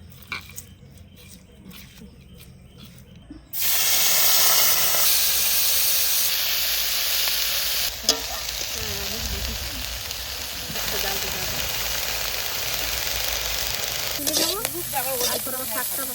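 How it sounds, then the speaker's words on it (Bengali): Small shrimp frying in a pan, a steady loud sizzle that starts abruptly a few seconds in after a quieter stretch, with occasional stirring scrapes and a voice talking briefly near the end. "চিংড়ি মাছটা ভেজে নেব"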